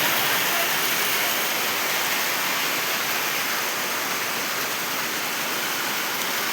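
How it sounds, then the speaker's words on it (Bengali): Heavy rain pours steadily outside a market shop, a dense, even hiss that stays constant throughout without pauses or voices. "আলহামদুলিল্লাহ 3 দিন ধরে অনেক বৃষ্টি হচ্ছে।"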